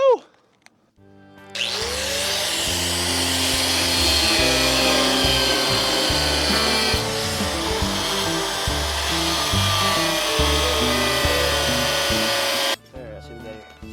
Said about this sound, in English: All right, bolt number 1 Let's get it cut off.